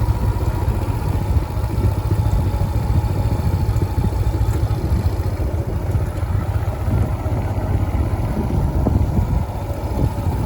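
A Royal Enfield Scram 411 motorcycle engine drones steadily while climbing a hill road toward a hilltop temple, loud and close with heavy wind buffeting the microphone throughout and no speech.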